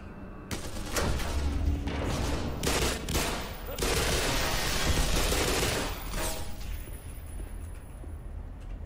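Heavy gunfire in the Black Mesa shooter game: rapid bursts of automatic weapon fire and overlapping shots, loud and sustained across the clip, with brief lulls between volleys.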